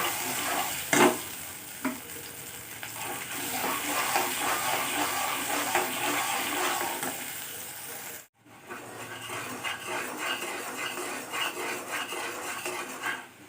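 A spice mixture with whole garam masala and a bay leaf sizzles loudly in a pan before chicken goes in, with steady frying hiss, scraping utensil strokes and a brief break near the end.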